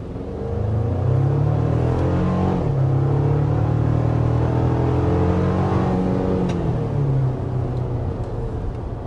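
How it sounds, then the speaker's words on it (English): A 2024 Toyota Tacoma Limited with a twin-turbo V6 accelerates hard, its loud, steady engine drone rising in pitch and dipping at two gear shifts, heard from inside the cabin. "Alright, so first acceleration with the limited Tacoma."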